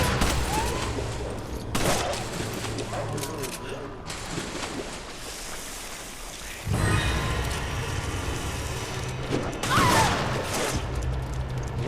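Gunfire in Resident Evil 5 on PS3, bursts of rapid, crackling shots rattling in dense clusters, with a sudden louder barrage partway through and game voices mixed in underneath.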